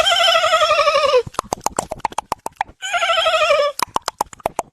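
A person imitates a horse neighing, a loud, high, wavering whinny twice, each followed by a rapid series of sharp clicking or snorting pulses.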